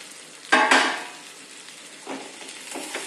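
Okra drops into hot oil with roasted green chili, starting with a sharp burst of sizzle and clatter, then softer frying hiss with a few stirring scrapes, close and unaccompanied by talk.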